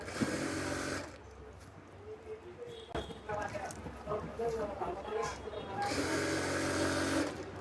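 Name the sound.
sewing machine stitching fabric beside elastic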